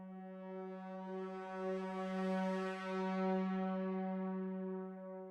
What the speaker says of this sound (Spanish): Hay uno que se llama swell, que es para va y viene en intensidad.